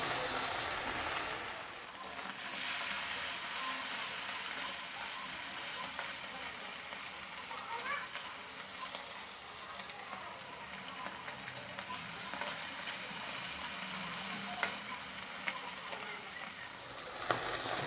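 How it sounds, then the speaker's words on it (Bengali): Amudi fish frying in hot oil in a pan, a dense continuous crackling sizzle that holds steady and close throughout, with occasional sharper pops. "মাছগুলো ভাজা হয়ে গেছে, গ্যাসটা কমিয়ে আমি তুলে নেব।"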